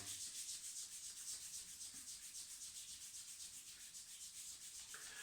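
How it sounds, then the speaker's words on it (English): A hand rubs vigorously up and down a bare forearm in a self-massage, making a continuous close, soft friction hiss that stays steady and unbroken for several seconds, with no talking. "Rub vigorously up and down the forearm."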